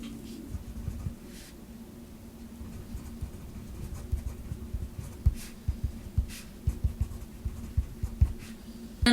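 A pen writes on paper close by, with quiet scratching strokes that build into a busy run of small taps and scribbles over a faint low hum.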